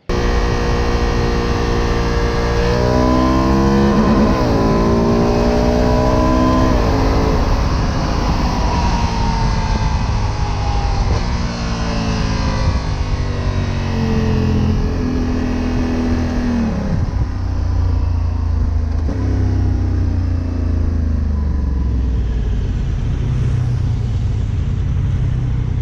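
A Honda Africa Twin motorcycle engine drones loud and close, with quick rev blips rising and falling as it shifts down through the gears during manual downshifts, a continuous pulsing roar throughout with no talking.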